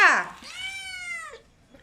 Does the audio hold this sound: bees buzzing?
no